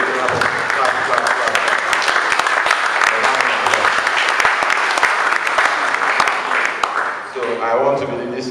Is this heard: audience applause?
yes